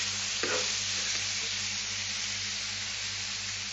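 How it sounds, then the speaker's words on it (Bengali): Kashmiri chili powder and spices being sautéed in a hot pan, a steady broad sizzle and frying hiss throughout with a brief stirring scrape near the start, close and continuous with no talk. "কাশ্মীরি লঙ্কার গুঁড়ো। এগুলো দিয়ে একটু কষে নিচ্ছি"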